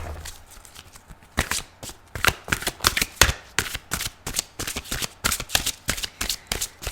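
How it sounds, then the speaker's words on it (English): Tarot cards are shuffled by hand in quick, crisp riffling bursts, close and clear, repeating in an irregular rhythm after a quiet start. "I also incorporate the way of the shuffling into the reading"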